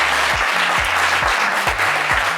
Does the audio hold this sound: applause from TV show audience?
yes